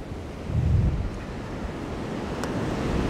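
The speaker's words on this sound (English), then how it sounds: "If this wind don't die down" Strong wind gusting past a microphone outdoors beside a Jeep Wrangler, a steady low rumbling buffet with a louder gust early on and no voices.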